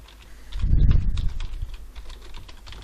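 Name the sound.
typing on a computer keyboard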